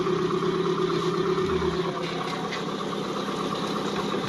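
An outboard engine idles steadily at about 1000 RPM with its alternator charging the battery, giving a low, even mechanical hum with faint vibration and no change in pace.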